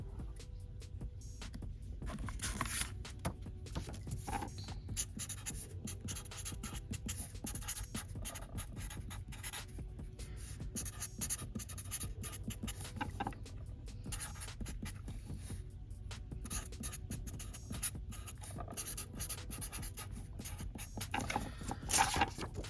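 A pen writing on a card, close and continuous scratchy strokes with brief pauses, steady and fairly quiet throughout.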